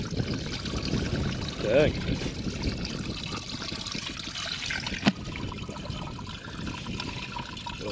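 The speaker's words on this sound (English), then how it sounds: "I thought I heard some water running." Water runs steadily along a Maine brook during a trout and salmon fishing trip, a constant trickling rush with a short spoken exclamation and a sharp knock partway through.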